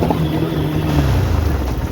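An off-road motorbike rides along with its engine running as a steady low drone, mixed with heavy wind buffeting the microphone.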